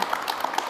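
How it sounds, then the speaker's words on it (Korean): Brief burst of audience applause at a televised poetry book talk, a dense patter of many hands clapping at moderate loudness with no voices over it. "박수 한번 보내주시죠"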